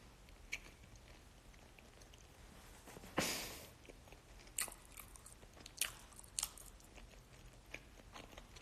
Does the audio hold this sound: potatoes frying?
no